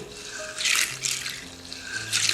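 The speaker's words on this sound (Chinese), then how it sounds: "我们先把黄豆清洗干净" Soybeans are rinsed by hand in a bowl of water, giving gentle sloshing and swishing in a few soft surges with faint dripping and no talk.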